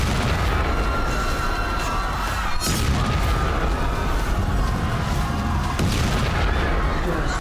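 Missile explosions during a massive Russian strike on Ukraine, heard as continuous loud rumbling booms and blasts with heavy low-end roar and sharp bursts, no clear voices.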